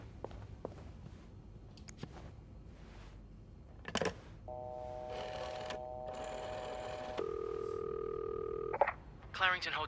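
A telephone call to a hotel reception desk: steady synthetic dial tones and ringback tones sound in separate blocks, with faint footsteps and clicks before them, all quiet and close.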